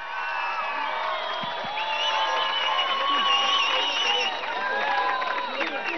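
A crowd at a political tribute event greets the youth and sports minister with a sustained wash of cheering, whoops and clapping, steady and moderately distant throughout.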